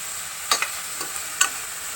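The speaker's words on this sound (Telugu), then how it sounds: "ఉల్లిపాయలు నేను మిక్సీలో వేసుకోకుండా సన్నగా కట్ చేసి వేయించుకుంటున్నాను" Sliced onions with curry leaves and green chillies frying in a pan for egg masala curry, a faint low sizzle broken by a few soft stirring scrapes, with no talking.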